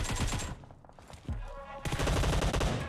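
AK rifle fire in PUBG Mobile, dense bursts of rapid automatic shots with brief gaps, loud and close, punctuated by sharp repeated cracks.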